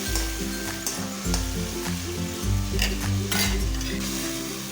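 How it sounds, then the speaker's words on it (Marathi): Tomato paste sautéing in a pan for Schezwan fried rice made from leftover rice, a steady close sizzle broken by repeated scraping stirs of a spoon against the pan, with no voices. "त्याचं पूर्ण मॉइश्चर जाईपर्यंत आपल्याला ही पेस्ट छान अशी परतून घ्यायची आहे"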